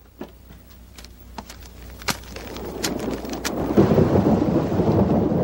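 Rain falls outside a door in a Hong Kong film scene, a steady wash that swells louder over the last seconds, with a few sharp knocks and thumps early on and a low rumble beneath.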